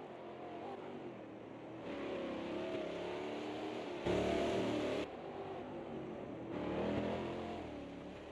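Chevrolet Cruze stock cars race at Campo Grande in Brazil's StockCar series, engines droning and swelling as cars pass, with a louder surge midway and a steady roar throughout, no talk.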